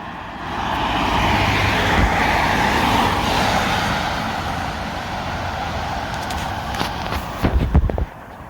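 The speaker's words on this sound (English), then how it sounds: "Look at these cars coming up the hill." Traffic rumbles steadily as cars climb a hill on a road, a broad continuous roar, with a few closer clunks and bumps near the end and no talking.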